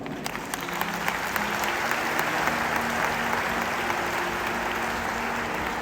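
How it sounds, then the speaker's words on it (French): A church congregation at a Sunday Mass honouring women applauds steadily, with a dense wash of clapping that sounds moderately distant and holds evenly from start to finish. "Il faut applaudir les femmes."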